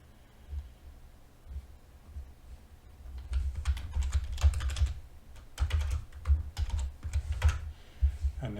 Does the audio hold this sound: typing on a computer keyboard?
yes